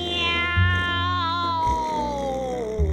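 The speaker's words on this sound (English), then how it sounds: "Meow, yowled the cat." A long, drawn-out cat yowl rises and slowly falls in pitch, loud and close, with brief low thumps beneath it.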